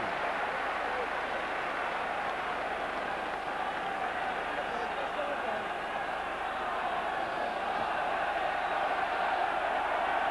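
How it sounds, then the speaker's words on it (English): Large rugby crowd at Cardiff Arms Park roaring for Wales during a 1983 international against Ireland, a dense, steady wall of distant cheering and chanting that holds throughout. "The crowd getting behind Wales."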